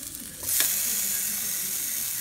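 Food being toasted in a pan, with a steady close sizzle that rises sharply after a brief clatter and then carries on evenly, with no talking.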